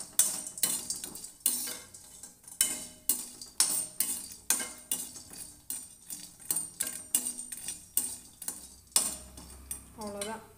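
Dried red chilies, broken into pieces, are stirred in a hot pan, making repeated scraping and clinking strokes of a spoon against the pan at a fairly regular rhythm.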